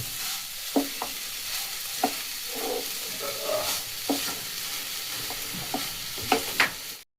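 Ground coconut and jaggery fried together in a pan for rasmalai, with a steady close sizzle broken by spatula scrapes and stirs about once a second, no talking.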